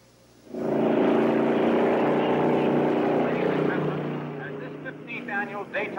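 Race cars roaring off at the start of the Daytona 500, a sudden swell of many engines into a loud sustained drone that then thins, with someone talking over the end.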